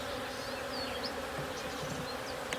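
Honeybees at an opened hive hum in a dense, close buzz, with individual bees zipping past in rising and falling whines over the steady drone.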